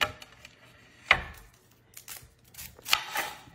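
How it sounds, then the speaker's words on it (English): Onion being chopped with a sharp new knife on a board, a few irregular crisp knife strikes with quiet gaps between them, close and fairly soft. "So we're going to chop us up an onion before we put it on."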